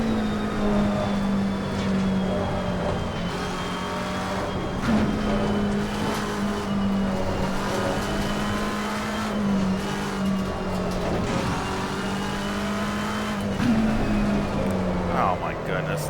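A McLaren 720S GT3 race car in Assetto Corsa Competizione at Circuit of the Americas, its engine droning steadily and loudly as the rear end slides, with a voice talking over it throughout.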